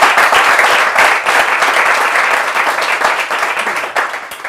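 A room full of people applauds at a church gathering, the claps crisp and close, thinning and growing more scattered toward the end, with no talking over them.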